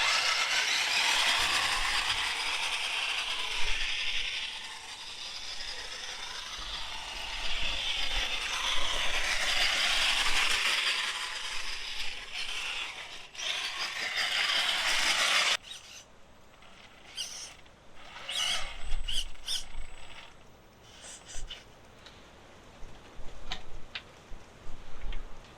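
A Redcat Gen 8 V2 RC crawler, its steering just upgraded, runs a test drive with a steady broadband whir for about fifteen seconds, then gives way to scattered mechanical ticks and clicks from the drivetrain and rolling over terrain, with no talking.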